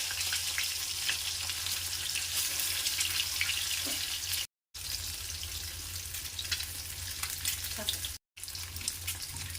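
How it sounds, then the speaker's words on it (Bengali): Eggs frying in hot mustard oil with turmeric in a kadai give a loud, continuous close sizzle with crackling spatter, broken by two very short gaps. "তেলটা গরম হয়ে গেছে, এর মধ্যে একটু হলুদ দিয়ে দিলাম, দিয়ে ডিমগুলো ভেজে নেব।"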